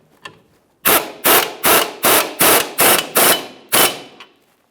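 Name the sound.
tightening lower control arm bolt on Chrysler 300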